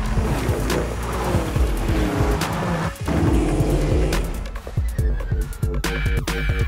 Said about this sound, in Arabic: بأصوات السيارات، صوت المكينة، صوت التواير، الأصوات المحيطة